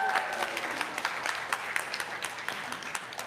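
An audience at a church service claps in a steady round of applause, the claps thick and continuous, with a few voices faintly mixed in.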